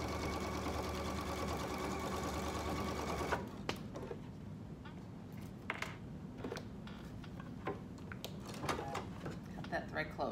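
A sewing machine hums steadily while sewing the side seams of a market bag, then stops, leaving scattered clicks, rustles and handling noises of fabric and thread.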